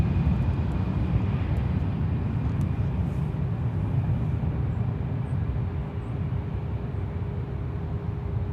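An Emirates airliner taxiing behind Terminal 2 at San Francisco airport gives off a steady, distant engine roar that holds evenly for the whole stretch, fading a little toward the end.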